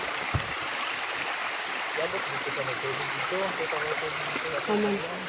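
A clear mountain stream near a village water source gives a steady rushing flow throughout, while a person speaks softly over it in the second half.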